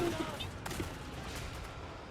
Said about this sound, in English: My other riflemen are firing.